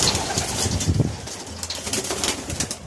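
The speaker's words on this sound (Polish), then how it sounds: "Gołębie mocno rozpierzone." Pigeons with heavily ruffled feathers coo low and throaty in a coop, a steady murmur of overlapping calls with a few brighter chirps and rustles, fairly close and with no talking.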